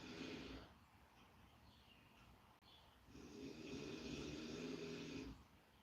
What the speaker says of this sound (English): snoring in the background